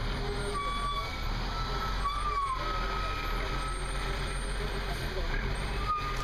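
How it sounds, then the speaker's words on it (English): A tow truck in busy traffic in Nepal gives a steady heavy engine rumble with a few sustained tonal beeps and hisses on top, and muffled voices sit faintly in the background. "It's a professional tow truck"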